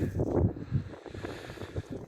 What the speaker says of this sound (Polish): Wiatr nie ustępuje, cały czas nas tu próbuje przegonić z tego pola